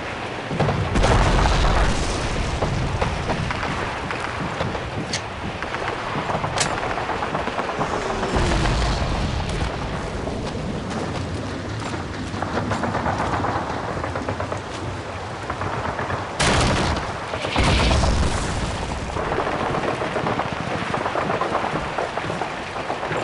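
Enemy mortar shells burst in a Call of Duty 2 battle at Hill 400 while securing a church, deep booming impacts rolling over constant loud battlefield rumble, with a couple of heavier blasts standing out.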